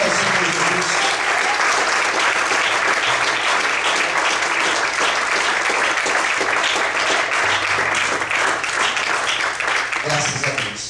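Sustained applause from a church congregation, many hands clapping in a loud, even wash for several seconds with a voice briefly audible beneath it, fading slightly at the end.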